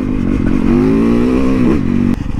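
A Triumph motorcycle engine drones steadily and loud on a road with patches of snow and ice, its pitch climbing slightly mid-ride before a sharp clatter near the end.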